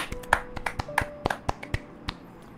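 Sharp separate claps or taps, about a dozen in quick irregular succession, close and fairly faint, like a single person clapping for a guest.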